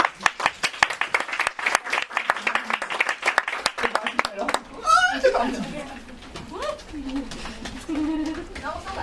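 A theatre audience claps in a dense burst of applause that fades after a few seconds, giving way to a voice speaking loudly in French.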